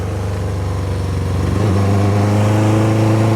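A 1978 Kawasaki KZ650 motorcycle, revived but running on a weak battery, idles with a loud close engine drone, then revs up and pulls away steadily with a strong rising engine note.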